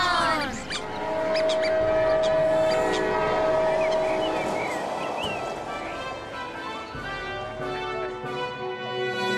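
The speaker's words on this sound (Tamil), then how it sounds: "ஃப்ளையிங் ட்ரெயின்ல நானும் இப்பதான் ஃபர்ஸ்ட் டைம் வரேன்." A flying train in an animated cartoon gives off sustained whistle-like tones over a rumbling bed. The sound is loud at first and fades gradually, with no voices.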